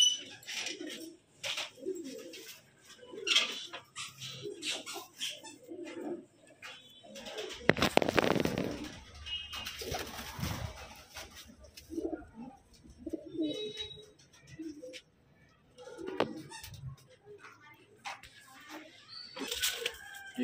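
Malwai pigeons coo softly and repeatedly nearby, low throaty calls in irregular bursts, with a brief flurry of wing flapping partway through.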